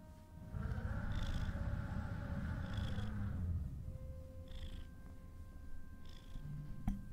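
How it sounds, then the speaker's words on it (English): A cat purrs close to the microphone, a soft rhythmic rumble that runs steadily at first and then fades lower, with a few faint higher tones over it. "We have a purr."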